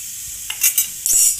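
Cumin seeds crackle and sizzle in hot oil in a pressure cooker, a loud steady fizz broken by a few brief bursts of popping and stirring, close up and with no voices.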